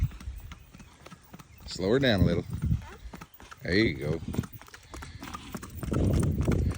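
Quick, even four-beat hoofbeats of a 13 or 14 year old, 14-hand Paso Fino mare gaiting on a trail, a steady rapid patter under a rider's voice giving calm instructions.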